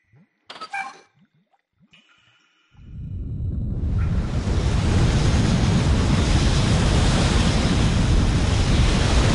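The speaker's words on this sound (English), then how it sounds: "The water has risen to the brim of the drain channel." Water surges into a drain channel in The Black Mirror adventure game, a loud, continuous rushing torrent that bursts in after a few quiet clicks and thuds, then roars steadily and close to the end.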